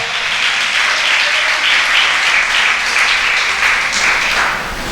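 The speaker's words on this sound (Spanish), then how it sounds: "Aplauda al Señor, apláudalo." A church congregation applauding during a sermon, loud sustained clapping from many people that fills the room steadily throughout, with no voices standing out.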